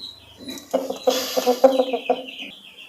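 A chicken clucks close by in a short run of quick, choppy notes, with high bird chirps faintly in the background.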